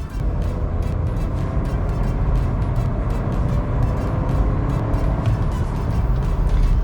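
A VW Polo with the Up TSI turbo engine and manual gearbox accelerating, a steady, loud engine drone with road and wind roar that holds throughout, no voices.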